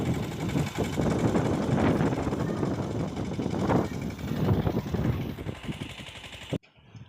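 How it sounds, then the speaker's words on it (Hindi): A tractor engine pulls a cultivator through a farm field, a rough, rattling, chugging drone that is loud and continuous with surging bursts, close by, then cutting out abruptly near the end. "तो इसलिए हम ट्रैक्टर लाए हैं।"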